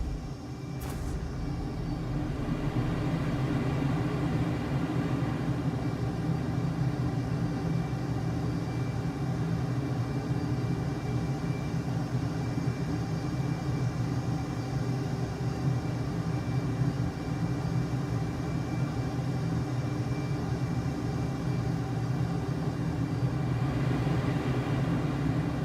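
A steady aircraft engine drone in a flight simulator game, a constant loud rumbling thrust hum that holds evenly throughout with no talk.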